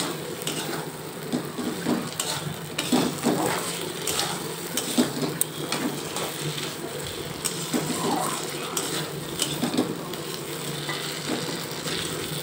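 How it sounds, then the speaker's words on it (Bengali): Tiger prawns that were fried beforehand now stir-cooked with spice masala for a malai curry, giving a continuous close sizzle with scraping spoon strokes and occasional clinks against the pan. "এরপর আমি ভেজে রাখা বাগদা চিংড়িগুলো দিয়ে দেব, দিয়ে কিছু সময় আমি বাগদা চিংড়ির সাথে মশলাগুলো সুন্দরভাবে কষিয়ে নেব।"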